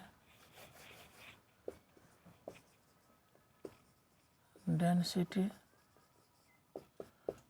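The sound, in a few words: writing on a board with a black marker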